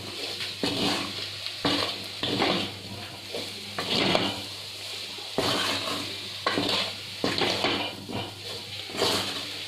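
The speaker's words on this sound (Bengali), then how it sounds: "মশলাটা দেওয়ার পরে আমি খুব ভালোভাবে আলুর সাথে মশলাটাকে মিশিয়ে নেব।" Potatoes are tossed with spices in a pan over low heat for a dry aloo sabji. A spoon scrapes and knocks against the metal in repeated strokes over a soft sizzle, close and fairly loud, with no speech.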